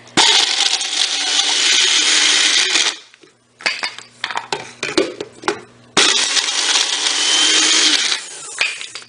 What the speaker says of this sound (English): we will blend it in our little blender